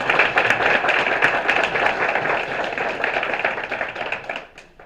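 Round of applause from the audience at a city council meeting in Brownsville, Tennessee, a crisp close crowd of clapping hands that stays steady and then tapers off at the end.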